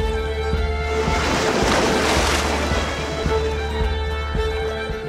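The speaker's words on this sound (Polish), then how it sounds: "tu już słyszę wodę" Water in the video game Unravel, a steady broadband wash of waves or flowing water that swells in the middle, heard near and continuous under a low rhythmic game music bed.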